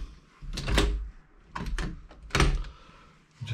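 A hotel room door worked with a key card, heard as three separate thuds and clunks of the latch and door spaced across a few seconds, fairly close, with no talking over them.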